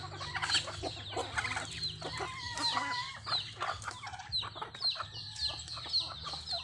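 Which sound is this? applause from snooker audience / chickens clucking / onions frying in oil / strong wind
chickens clucking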